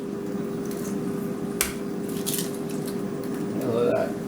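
Two eggs cracked into a bowl for panettone French toast: a sharp crack and wet squish, followed by soft drips and sloppy sounds of the eggs sliding in, close and fairly quiet over a steady kitchen hum.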